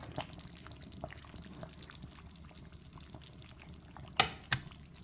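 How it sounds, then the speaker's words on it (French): Water poured to rinse a blender container, with faint splashing and trickling, then two sharp knocks near the end. "Je vais me servir de l'eau pour bien rincer mon récipient pour rajouter tout ceci."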